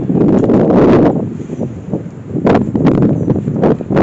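Gusty wind buffets the microphone in loud, rumbling bursts that swell and ease over a few seconds, at Muncaster Castle in Cumbria.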